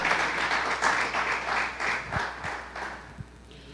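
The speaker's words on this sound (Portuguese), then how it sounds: "Você quer aplaudir? Aplauda o Senhor." A church congregation claps together in praise during a service, a fairly faint, steady wash of applause that thins to a few last isolated claps.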